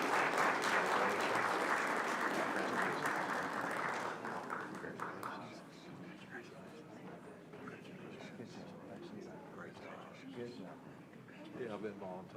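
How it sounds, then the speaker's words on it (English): A room at a board of education meeting applauds for students, loud dense clapping for about four seconds that then thins into scattered claps under murmured talk and shuffling. "Let's give our Jefferson Bees a round of applause"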